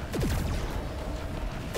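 Continuous Fortnite gunfire, a steady rattle of rapid shots with a few sharper bursts, loud and busy throughout with no talking.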